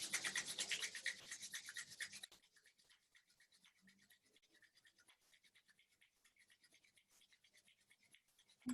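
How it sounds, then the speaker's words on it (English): Palms rubbing briskly together during a yin yoga class, a loud dense scratchy friction lasting about two seconds, then a much quieter soft rubbing texture continuing faintly. "We bring the palms together, we rub them against each other."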